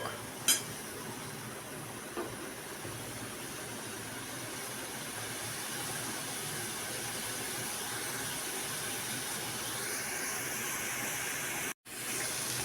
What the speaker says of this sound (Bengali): ঢেলে দেবো সয়াবিনের মধ্যে পেঁয়াজটা ভাজা ভাজা হোক